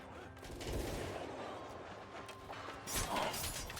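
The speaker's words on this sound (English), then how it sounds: "Tell them all to fire well." Gun-armed samurai troops in Mount & Blade 2 Bannerlord fire a ragged volley, a muffled rumble of distant shots with a sharper crack near the end, some voices faintly in the battle din.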